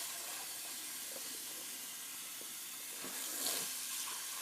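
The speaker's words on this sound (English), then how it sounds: "Just gonna rinse out my bowl real quick." Tap water runs steadily into a shaving soap bowl as it is rinsed out, a soft continuous hiss and splash close by with a brief louder surge near the end.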